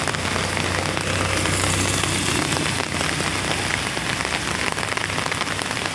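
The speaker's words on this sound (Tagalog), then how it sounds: "walang tigil na ulan." Heavy, unbroken rain pours down on surfaces during a typhoon in a Philippine province, a dense steady hiss close by with no pauses.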